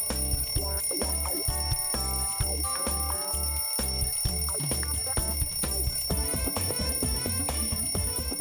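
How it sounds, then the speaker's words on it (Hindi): Alarm clock bell ringing steadily and loudly in a bedroom, set for 5 a.m. to wake a sleeping woman, with a continuous metallic clatter over music with a steady beat. "अलार्म की घंटी से भी कुछ फर्क नहीं पड़ रहा"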